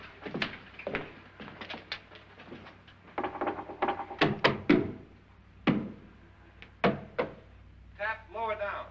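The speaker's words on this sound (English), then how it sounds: "Now, I'm going to knock on the other wall." Knocks on a wall inside a haunted house sound as scattered sharp taps and thuds, mixed with speech.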